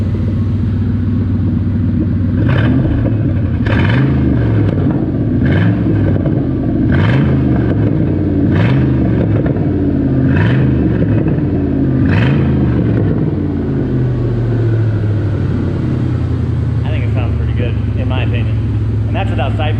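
A Factory Five Cobra Roadster engine runs without side pipes, a loud, close, deep rumbling idle with a rhythmic pulsing lope that gradually smooths out; someone speaks over it.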